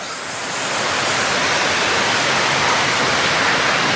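Heavy monsoon rain pours down in a dense, steady hiss that swells within the first second and then holds loud and even, with no voices.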